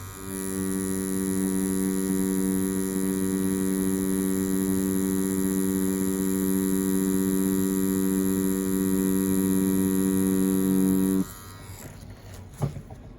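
A Dragonhawk Atom M5 rotary tattoo machine runs steadily at close range, a constant electric buzz with a strong tonal hum, until it shuts off near the end, leaving a few small knocks.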